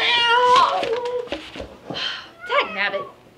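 A cat meows and yowls on a table in a couple of drawn-out, wavering cries while a person scolds it at close range.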